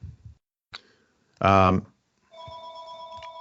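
A telephone rings in a quiet indoor podcast recording, a sustained electronic tone that starts after a short burst of talk and a click and continues to the end.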